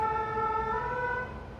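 An emergency siren wails as a steady, fairly loud tone that holds for under two seconds, then eases slightly toward the end, with no voices over it.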